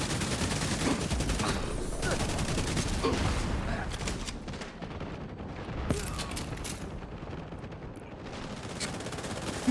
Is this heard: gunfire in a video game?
yes